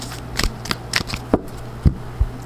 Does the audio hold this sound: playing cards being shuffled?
yes